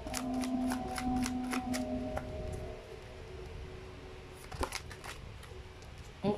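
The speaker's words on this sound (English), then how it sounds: "That's why I love to shuffle in front of the camera." A deck of tarot cards being shuffled up close, with a string of quick riffling and flicking bursts, a steady tonal hum underneath for the first few seconds, then sparser card snaps toward the end.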